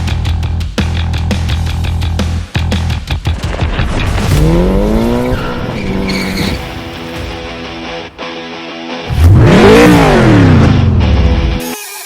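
A car drifts while its driver pulls the emergency brake and floors the gas. The engine revs loudly, long sweeping tire squeals rise and fall, and clattering noise runs underneath at close range.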